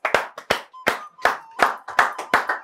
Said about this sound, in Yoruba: Ẹ bá ń pàtẹ́wọ́ fún wọn.